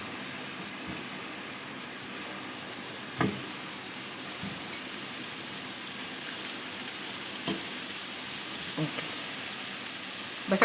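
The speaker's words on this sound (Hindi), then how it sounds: "बस इसको थोड़ी देर के लिए फ्राई करेंगे" Beef golla kebabs frying in an oiled pan, a steady broad sizzle that runs throughout with a few faint clicks and knocks, close and even.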